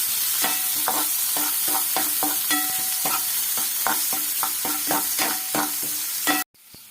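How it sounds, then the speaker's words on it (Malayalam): Chopped garlic and onion fry in hot oil for a Kerala clam roast, giving a close, steady sizzle broken by repeated scraping stirs until the sound cuts off abruptly near the end, with no talking. "ചൂടായ എണ്ണയിലേക്ക് ഞാൻ ചെറിയ വെളുത്തുള്ളി നന്നായിട്ട് ചെറിയ ഇതായിട്ട് അരിഞ്ഞു വെച്ചേക്കണതും സബോള ചെറുതായിട്ട് അരിഞ്ഞു വെച്ചേക്കണതും ഇടുവാണ്."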